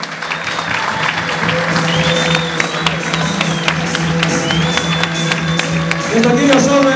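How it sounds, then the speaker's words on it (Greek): Warm audience applause fills the hall after a fight between two named fighters, steady loud clapping from a crowd with scattered shouts, continuing for several seconds. "Ένα θερμό χειροκρότημα"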